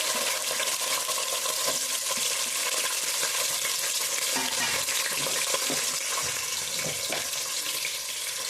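Onion, fennel seeds, bay leaves, cloves and other whole spices frying in hot oil give a loud, close, continuous sizzle, broken by scraping stirs and occasional pops.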